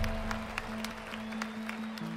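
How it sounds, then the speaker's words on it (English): Arena crowd cheering and applauding, a dense steady roar of claps and shouts throughout, with a sustained tonal hum underneath. "And then the crowd just went nuts."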